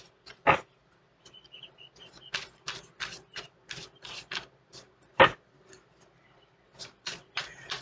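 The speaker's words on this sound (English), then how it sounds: "Really shuffle them in there." A run of sharp, papery flicks and taps as tarot cards are shuffled, some louder slaps among quick bursts, with short pauses between, close by and without talk.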